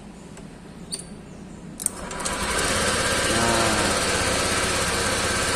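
A Honda Vario motorcycle engine, just repaired after losing ignition, cranks over and catches, then settles into a steady, loud close-up idle that continues to the end, with a brief word spoken before the start.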